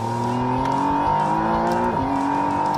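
Electric car accelerating hard at full throttle, a steady whine that climbs in pitch and dips briefly near the end, loud and continuous with no talk.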